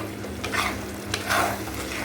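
Meat sautéing in a hot pan with ginger paste and salt, a steady close sizzle with scraping stirring strokes breaking through now and then, no voices.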